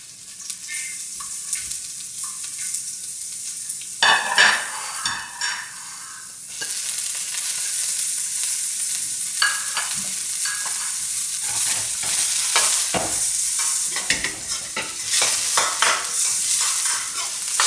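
Carrots, peas and corn stir-frying in a small amount of oil in a pan, a steady close sizzle with repeated scraping and stirring strokes throughout, louder after the first few seconds, with no talk.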